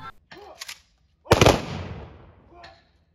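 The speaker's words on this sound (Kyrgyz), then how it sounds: "Аза күтүүдө курман болгондордун урматына мылтык атылды." A ceremonial rifle salute honouring fallen soldiers at a Victory Day memorial: a loud, close volley of gunfire cracks sharply and rolls away in a long echoing tail, preceded by faint brief sounds.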